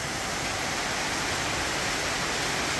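River water rushes steadily in a close, loud, unbroken wash with no voices or other sounds standing out.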